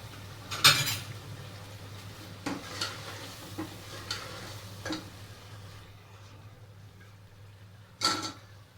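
Bottle gourd goes into fried masala in a pot and is stirred, giving a low sizzle with intermittent spoon clinks and scrapes against the metal, including a sharp knock near the start and another near the end.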